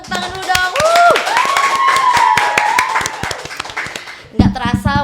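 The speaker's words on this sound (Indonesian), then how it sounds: "Tepuk tangan dulu dong." An audience at a campus talk session claps for a guest speaker; scattered, quick hand claps run throughout, mixed with close voices speaking and exclaiming over them.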